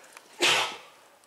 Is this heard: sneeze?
yes